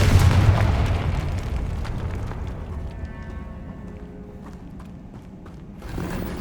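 A loud, boomy Confringo fire-spell blast from Hogwarts Legacy opens the clip, then fades into a rumbling tail over quiet game ambience; no voices.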